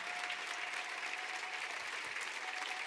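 A church congregation applauds in praise of the Lord, a steady wash of continuous clapping heard from within the crowd, moderately faint and without pauses.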